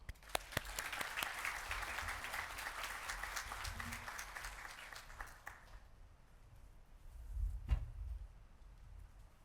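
An audience at a community conference applauds to welcome the speakers, with steady, moderately distant clapping for about six seconds before it fades into room quiet and a soft knock.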